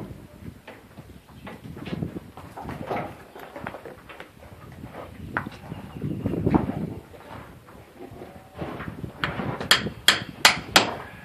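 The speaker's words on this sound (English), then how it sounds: "Knock it in with a hammer," Hammer knocks a cloth-patched lead ball down a muzzleloader barrel, sharp metallic taps clustering toward the end, the last several bright and distinct, following quieter handling noises and shuffling near the gun.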